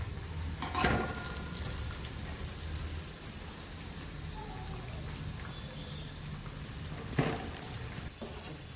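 Kathiyawadi chapdi fried bread sizzles steadily in hot oil as it turns golden brown, with a soft continuous crackle and a couple of louder splashy bursts, heard fairly close and alone.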